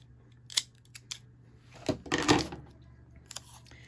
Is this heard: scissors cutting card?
yes